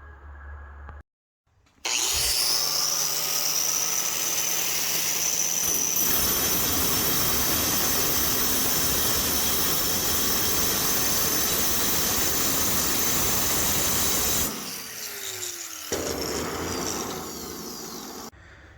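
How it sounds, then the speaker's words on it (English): An angle grinder grinding a metal surface, spinning up abruptly to a loud, harsh, sustained whine close by that holds steady for over ten seconds, then winds down and fades, with no talking. "I'm going to see if I can show you how you can see through that wheel and see the surface that you're grinding"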